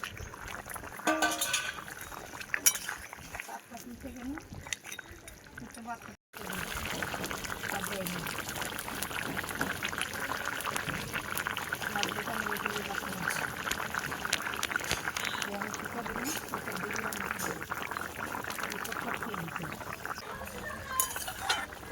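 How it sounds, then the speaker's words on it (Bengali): Fish goes into a simmering, sour Bengali macher jhol of potato and mango in a pan, with steady bubbling and liquid churning, briefly interrupted, then continuing under intermittent talking. "ঝোলটা ফুটে গেছে, মাছটা দিয়ে দিচ্ছি।"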